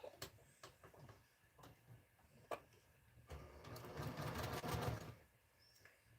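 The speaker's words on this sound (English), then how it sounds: "Now I'm going to sew the blocks together." Sewing machine stitching scrappy 6.5-inch quilt blocks of leftover fabric, with short clicks and taps at first, then a steady louder run of rapid stitching in the middle before it stops.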